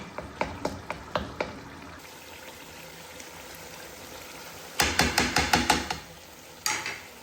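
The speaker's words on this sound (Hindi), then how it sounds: "ये टमाटर प्याज है इसको थोड़ा सा मैश कर लें।" Cooked tomato and onion are mashed in a pan with a metal utensil, a quick series of sharp rhythmic taps, a pause with faint sizzling, then another rapid burst of knocks and a final pair.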